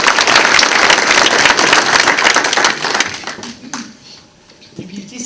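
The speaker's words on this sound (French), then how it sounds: "Ça fait qu'ils méritent encore une bonne main d'applaudissements." Audience applause at a volunteer tribute gala rings out as dense, loud clapping for about three seconds, then thins and fades into scattered claps.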